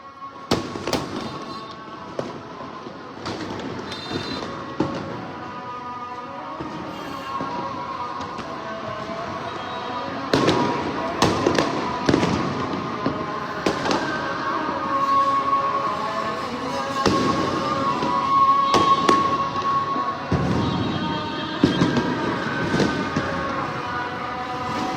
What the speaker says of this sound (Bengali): প্রতিটি ভবনের উপর থেকে কিন্তু ফানুস এবং আতশবাজি ফুটানো হচ্ছে